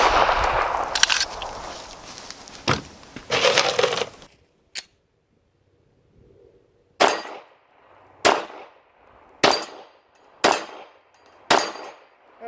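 A Wilson Combat EDC X9 pistol fires at steel popper targets from about 20 yards. An early cluster of shots gives way, after a silent pause, to about six sharp, evenly spaced reports, each with a short metallic ring.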